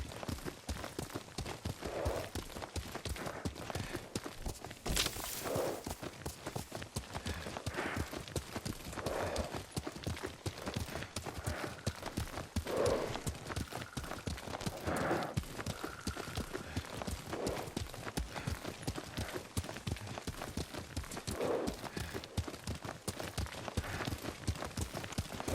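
Horse hooves clip-clop in a steady walking rhythm while riding in Ghost of Tsushima, repeating close and clear for the whole stretch without speech.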